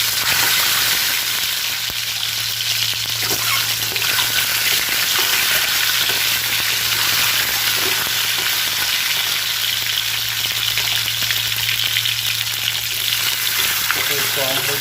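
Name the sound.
eggs frying in oil for egg biryani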